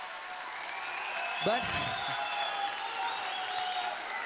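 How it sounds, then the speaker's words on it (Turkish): Studio audience of a Turkish singing competition applauds in a dense, sustained wash, while a voice speaks briefly over the clapping partway through. "Alkışlayın eğer lezzet verdiysen"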